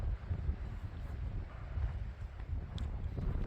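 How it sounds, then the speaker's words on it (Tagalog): Low, constant wind noise rumbling across the microphone for a few seconds, fairly faint and unbroken, with no one speaking. "Lamig dito. Hangin."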